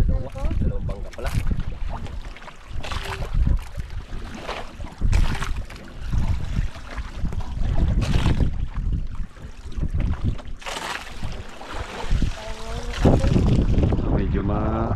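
Two boats move on open water, with steady engine or hull rumble, wind buffeting the microphone and splashing throughout, fairly loud and close.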